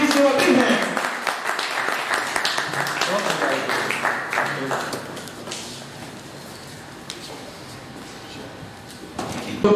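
Audience applause at the book launch ceremony for Shehzad Aslam Raja's book Awargi, strong at first and thinning out over several seconds into a quieter room.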